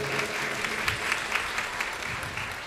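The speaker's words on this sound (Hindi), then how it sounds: "एक बार इन सभी बच्चों के लिए जोरदार ताली बजा दे जरा।" Audience clapping loudly for children at a devotional music gathering, a dense steady patter of many hands with slightly rhythmic pulses, fairly close and continuous without speech.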